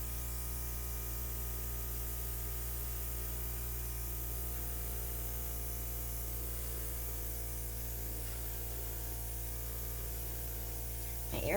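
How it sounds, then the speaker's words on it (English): An airbrush sprays paint for a flip and drag pour, a steady hissing rush that sounds a little strained, running continuously and close with no talking. "My airbrush sounds like it's struggling a little bit, doesn't it?"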